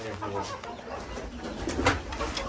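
Pigeons coo at a pigeon farm where birds are nesting with eggs and young, soft low repeated coos from close by, with some clucking bird sounds mixed in.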